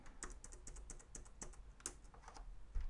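Keys on a computer keyboard are pressed in a quick series of crisp clicks, including a Ctrl+Shift+F shortcut. The taps are close and clear, with short irregular gaps between them.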